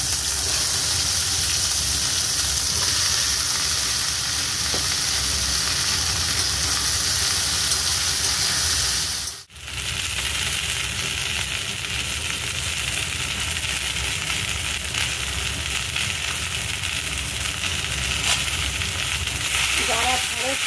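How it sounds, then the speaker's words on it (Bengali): Okra frying in hot oil in a wok over a gas flame, giving a loud continuous close sizzle with a brief dip partway through, while a person talks over it. "গ্যাসে কড়া বসিয়ে আমি তেল দিয়ে দিয়েছি, তেল গরম হয়ে গেছে। এবার আমি ঢ্যাঁড়সগুলো অল্প করে ভেজে নেব।"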